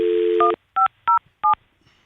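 A telephone touch-tone keypad beeps as a number is dialed: one longer tone then three short, evenly spaced beeps, clear and close with no talking.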